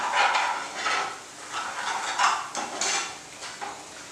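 Chili powder frying in oil in a pot for an Instant Pot Hyderabadi biryani, with a steady sizzle under repeated scraping and clinking of a metal spoon stirring against the pot.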